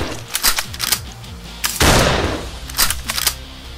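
Gunfire in a live-action Battlefield 4 versus Call of Duty parody: close, sharp bursts of automatic fire in rapid volleys, with a loud blast in the middle and more rattling shots after it.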